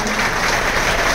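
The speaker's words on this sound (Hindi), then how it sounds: "उनके सम्मान में उनके अभिनंदन में हम सब जोड़ा ताली हिला करके" Audience applause at an evening ceremony honouring guests, a dense steady wash of many hands clapping together throughout, loud and close with no pauses.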